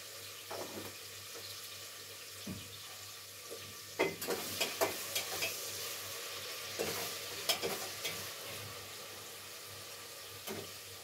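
Onions with a little salt cooking in a pan, a quiet steady sizzle with intermittent clinks and scrapes of a spoon stirring, a low hum underneath.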